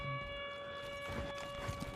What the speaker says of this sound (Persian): آژیره